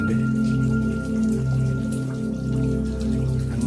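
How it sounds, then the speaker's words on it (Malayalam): Water seeps and drips inside a rock cave with a spring-fed pool, a steady loud patter over a constant low rumble throughout. "വെള്ളം ഇങ്ങനെ കനിയുന്നുണ്ട്."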